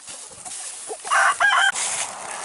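A farm flock of chickens and roosters, with loud rooster crowing bursts in the middle over steady background clucking and fowl chatter.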